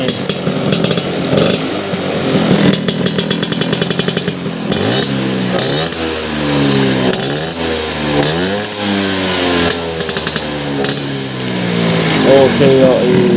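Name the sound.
1970 Vespa Sprint scooter engine running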